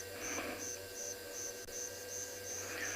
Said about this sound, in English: you can hear the cicada going tew, tew, tew, tew, and some crickets